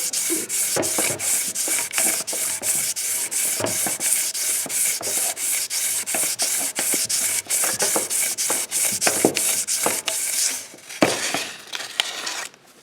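A hand-crank polisher drives 320 grit paper against metal, making a loud, continuous, rhythmic rasping and rubbing with regular strokes that ease off and turn softer near the end.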